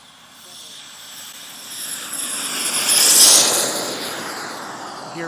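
An EA Picaro 2.0 RC jet takes off, its turbine whine rising from faint to a loud, high-pitched peak as it passes close, then easing away, with a voice audible underneath.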